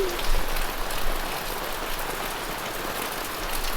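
Steady, dense rain pattering on surfaces nearby, a constant hiss without pauses or voices.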